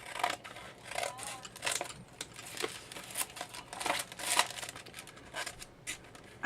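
Scissors cut through a recycled paper envelope in a rapid run of crisp, close snips mixed with light crinkling of the paper, with no voice over it.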